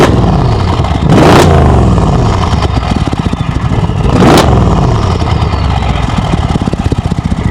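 A Mercedes-AMG S63 engine revs hard twice, each sharp loud blip rising and falling over a steady rumbling idle, heard close with no talking.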